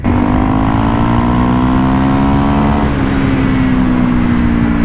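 A Honda CRF 300L motorcycle fitted with an aftermarket shock, ridden on a road in the Philippines, accelerating to the redline; a loud, close engine tone climbs steadily in pitch throughout, with no talk.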